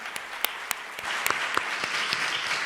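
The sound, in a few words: audience applause after a panel discussion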